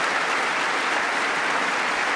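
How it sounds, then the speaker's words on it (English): A crowd at a live political event breaks into dense, steady applause, loud and continuous for a couple of seconds with no voices standing out. "Inappropriate applause."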